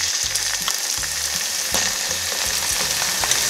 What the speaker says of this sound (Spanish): Igualmente, freímos muy bien, suavemente a fuego bajo.